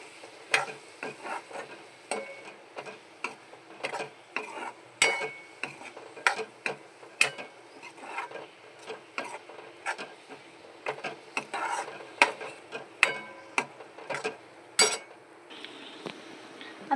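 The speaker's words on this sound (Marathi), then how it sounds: "त्याला आपण चांगलं कांदा आणि वाटण चांगलं शिजवून घ्यायचं परतून घ्यायचं" Onion and ground masala paste for prawn kolambi masala being sautéed in a pan: repeated scraping strokes and clinks of a spoon against the pan over a faint sizzle, close and uneven.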